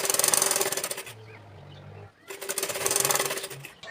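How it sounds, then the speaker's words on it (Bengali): A sewing machine stitches along a folded fabric belt in two fast, rattling bursts, close and steady, with a brief lower hum in the pause between them. "প্রথমে আমি এখানে বেল্টটি তৈরি করব, তার জন্য উল্টো সাইডে একটা ভাঁজ দিয়ে সেলাই করে নিচ্ছি"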